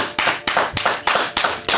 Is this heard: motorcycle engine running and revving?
no